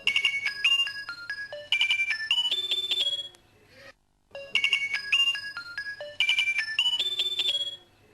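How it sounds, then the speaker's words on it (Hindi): A telephone rings with a bright electronic melodic ringtone in a Pakistani drama scene, playing loudly through two full cycles separated by a short silent gap, with no one speaking. "बेटी का फोन है किराची से"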